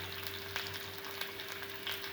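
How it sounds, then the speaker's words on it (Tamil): Small shallots sizzle in hot oil during tempering for a gram dal chutney, a steady close frying crackle with a few sharper pops and no voices. "கட் பண்ணி வச்சுக்கிற சின்ன வெங்காயம் தாளிக்கிறதுக்கு போட்டால் நல்லா இருக்குங்க"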